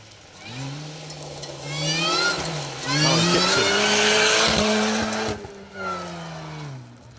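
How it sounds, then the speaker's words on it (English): A supercharged Mini Cooper rally car on a special stage of the Trackrod Rally passes close, its engine rising and falling through several gear changes with revving bursts and faint tyre noise, loud and alone. "Stephen Warrington from Littleborough in their supercharged Mini Cooper"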